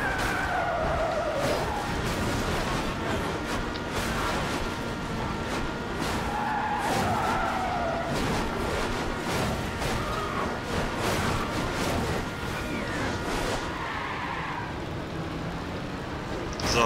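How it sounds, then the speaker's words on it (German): Tires squeal and skid over a constant roar of engines in the racing game Burnout Revenge, with long sliding screeches that sweep up and down and no talk. "das hilft mir jetzt ein bisschen schneller, die Autos zu crushen"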